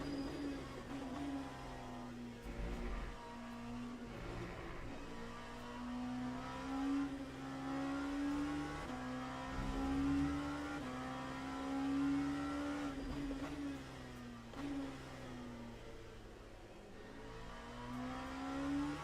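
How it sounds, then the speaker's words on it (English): GT3 race cars lapping Spa in a racing game, engines droning steadily with rising and falling revs and shifting pitch, several cars running close together throughout, no talking. "Oh, you just love to see a few GT3s directly behind each other"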